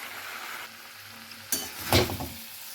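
Already-fried prawns tipped into a cooking spice masala, with a soft, steady sizzle that flares up in two sharp, close bursts of hissing and spattering as they hit the hot pan.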